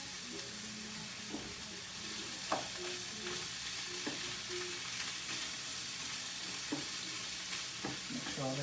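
Chicken and rice vermicelli sizzle steadily in a hot pan with sauces and spices, a dense close frying hiss broken by occasional scrapes and knocks of a utensil stirring, with no voices.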